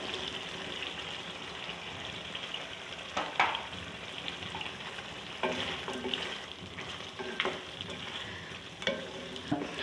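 Chicken keema and potatoes stir-frying in a pan, a soft continuous sizzle broken by repeated scraping stirs and spoon clatters, fairly quiet with no talk.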